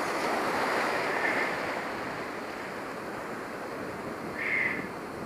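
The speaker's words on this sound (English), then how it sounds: "We got a lot of surge now" Ocean surge washing around an underwater cave while diving: a steady, close rushing and churning of water with slight swells in loudness, no talk.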